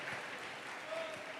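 A church congregation claps together during a Sunday worship service, a steady, even wash of applause from a large room at moderate volume with no speech over it.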